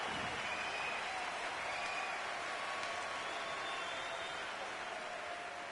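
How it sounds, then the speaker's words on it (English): A hockey arena crowd in the NHL 26 video game, at a Sabres vs Panthers matchup, roars and cheers in a steady, dense wash of noise that holds evenly for several seconds without letting up. "One of the few things this crowd has had to cheer about tonight"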